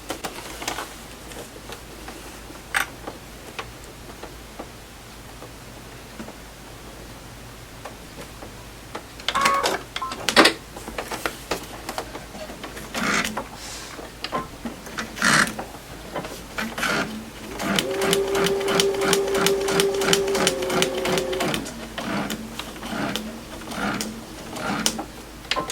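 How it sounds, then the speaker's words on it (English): Sewing machine stitching a log cabin quilt block, starting with scattered clicks and handling noises, then a steady rhythmic mechanical whir of stitching that runs for several seconds before slowing and stopping, no voices. "And I'm sewing this line right under number 7."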